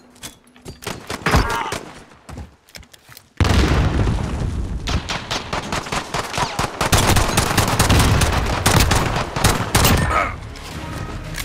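Gunfight in a video game, with rapid bursts of gunfire and booming impacts, sparse shots at first and then a dense, loud stretch of continuous firing.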